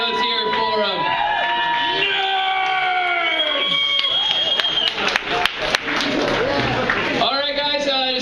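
A rowdy pub crowd at a live debate comedy night cheers, whoops and shouts continuously and loudly, with overlapping voices and some clapping bursts throughout.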